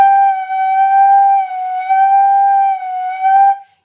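Sustained flute tone with the pitch bending slightly up and down as the airstream shifts, close and clear, broken by brief breath gaps before stopping abruptly; no talking.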